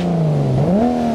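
A Toyota Supra engine revs in the BeamNG driving game. It holds a steady drone, then climbs in pitch, close and loud and alone, with no talk over it.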